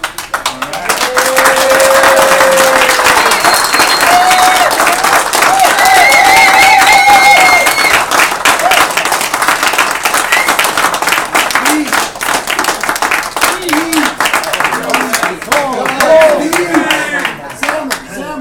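Applause and cheering break out at a foosball hall of fame induction, clapping sustained for several seconds with shouts and whistles on top, then thinning as voices talk over the scattered claps.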